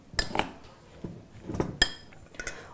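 Cherry tomatoes are stirred into tabbouleh in a bowl, and a utensil clinks and taps against the dish in a few sharp, scattered knocks, close and fairly loud, with no voices.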